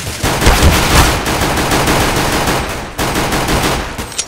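Rapid gunfire in Counter-Strike: Global Offensive, loud bursts of shots crackling almost continuously for several seconds with a short break near the end.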